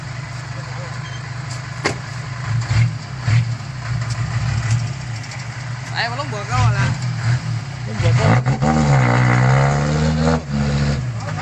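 A tractor engine chugs steadily at idle, its low rumble continuous while someone talks loudly over it in short bursts.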